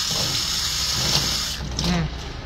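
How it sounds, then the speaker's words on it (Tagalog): Water runs steadily from a tap in a continuous hiss, with brief splashing and clinking near the end as dishes are rinsed. "Maghuhugas tayo ng pinggan ngayon."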